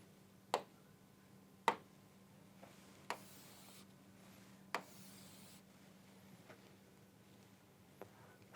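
Chalk or marker tapping and scratching on a board during a physics lecture: a handful of sharp, isolated ticks spaced about a second apart, with faint scrapes between them, quiet and close in a still room and no speech.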